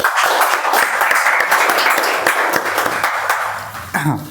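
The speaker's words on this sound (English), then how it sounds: "So, big round of applause for them." Members at a Toastmasters club meeting give a round of applause, brisk close clapping that holds steady and ends as a voice begins speaking.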